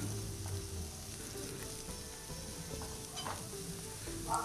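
Thinly sliced cabbage and capsicum sauté in a pan with a quiet, steady sizzle, a few soft stirring scrapes, and a low background hum.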